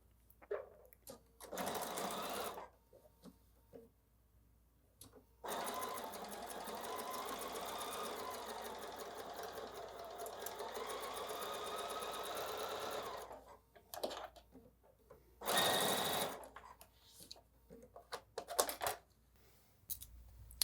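A home sewing machine stitches a seam straight through the middle of an X on a quilt block, running in a long steady whirring burst between shorter start-and-stop runs, close and clear.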